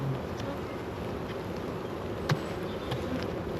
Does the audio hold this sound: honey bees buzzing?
yes